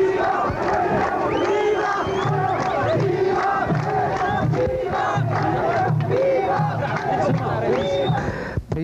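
A large crowd of children and adults lining city streets in Ethiopia in 1992 cheers, chants and ululates to welcome President Meles Zenawi, a dense, continuous roar of voices with rhythmic chanting.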